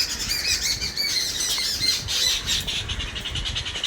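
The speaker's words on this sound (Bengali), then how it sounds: "পাখিদের আওয়াজ তোমরা শুনতেই পাচ্ছ" Many birds squawk and call in a zoo with tall trees, a dense, fairly loud chorus of harsh overlapping cries that carries on without pause.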